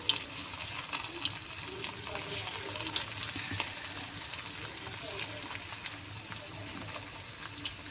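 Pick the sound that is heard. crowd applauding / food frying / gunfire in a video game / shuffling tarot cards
food frying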